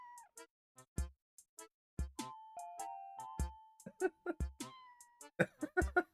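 A cat meows repeatedly, close and clear, in short calls with a few longer drawn-out tones between them, and the calls quicken toward the end with nothing else behind them.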